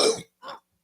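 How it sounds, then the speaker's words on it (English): A person gives two short, sharp coughs close to the microphone, the first louder and the second softer, with a brief pause between them. "So I'm going to cough now."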